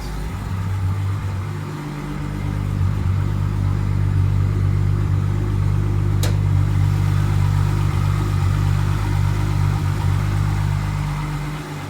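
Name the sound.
car engine running with bonnet open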